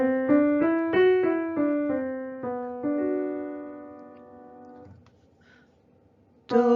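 A short melody in the Phrygian mode on a plucked or struck pitched instrument, about a dozen clear notes stepping down and back, ending on a held tone, then a sudden loud attack.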